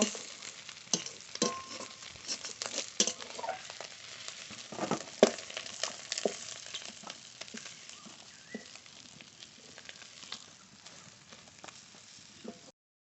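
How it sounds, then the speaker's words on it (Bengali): Washed potatoes frying in hot oil in a home kitchen, a steady crackling sizzle broken by sharp spits and pops, loudest early on and gradually settling, close up with no one speaking. "আজকে ধুয়ে রাখা আলু ভেজে নেব"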